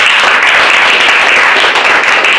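Dense, steady applause from a meeting audience at a sales gathering, filling the whole stretch at full volume with no voices breaking through.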